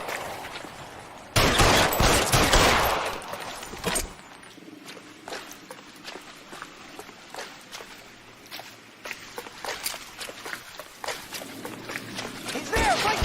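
Bursts of gunfire in the crime video game L.A. Noire, a loud dense volley early on followed by scattered shots and footsteps, with voices shouting over the action.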